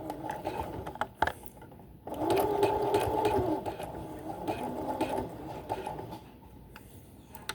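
A sewing machine stitches a frock alteration in a steady mechanical whir, with a louder, faster burst partway through and brief pauses, close and alone with no talking.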